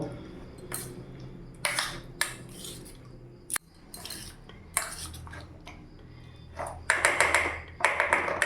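Spoon stirring a paneer mixture in a metal bowl, with repeated clinks, scrapes and taps of utensil against the bowl in an irregular rhythm, close and fairly crisp.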